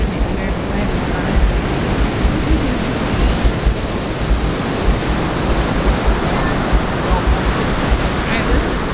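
Ocean surf at Myrtle Beach, South Carolina: a steady, loud wash of breaking waves with wind buffeting the microphone and no clear talk over the continuous roar.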